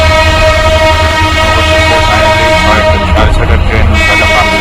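A passenger train pulling out of a station in Sreemangal, Sylhet, Bangladesh, its horn sounding a loud sustained tone over the steady rumble and clatter of the carriages.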